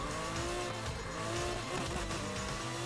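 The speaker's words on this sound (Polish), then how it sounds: "Fajny dźwięk tego auta jest." Car engine in Need for Speed Heat roaring at high revs with a strained, racing tone, loud and continuous with no talk.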